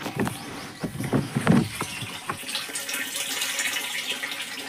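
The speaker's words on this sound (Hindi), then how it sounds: "और अब मैं उस वाली टंकी में लगाऊंगी पानी" Water runs from a pipe into a household storage tank, an uneven splashing flow with a few louder gurgling bursts early on, then settling into a steadier, moderately close rush with no talking.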